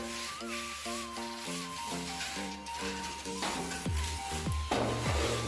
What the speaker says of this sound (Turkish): En sonunda da çıkan tutkalı süngerle alıyoruz.